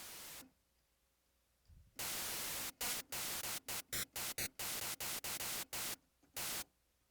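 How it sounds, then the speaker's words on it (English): A Serum software synthesizer's noise oscillator plays a loaded noise sample as loud broadband hiss, first one long burst, then a string of short, evenly chopped bursts separated by near silence. "Turn on the noise oscillator, and then grab massive noise first."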